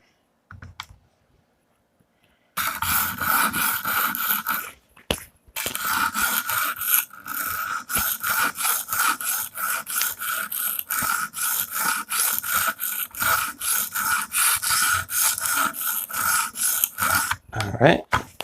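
A Damascus dagger stroked along the stones of an Edge Pro Apex sharpener, giving close, steady rhythmic scraping and rasping passes that run almost without a break after a quiet start.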